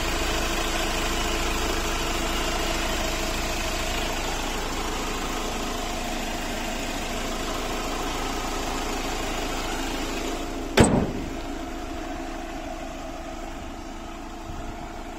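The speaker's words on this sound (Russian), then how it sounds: "Очень чисто мотор работает, очень мягко." An Iveco van's engine idles steadily and smoothly at a close distance, with a brief click or knock near the end before the hum continues slightly quieter.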